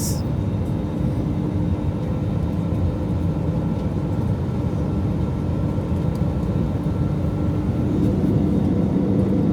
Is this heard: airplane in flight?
yes